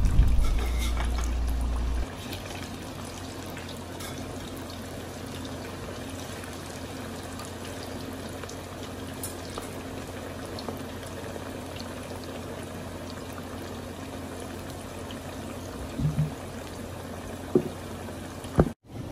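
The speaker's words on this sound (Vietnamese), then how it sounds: "Cứ như vậy mình sẽ chiên cho hết cái phần chuối còn lại." Green banana pieces fry in oil with a steady, soft sizzling crackle throughout, plus a low thump at the start and a few brief clinks near the end.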